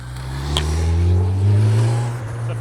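A car engine revs and accelerates steadily during a driving lesson, a loud low drone rising and holding close by, with no talking over it.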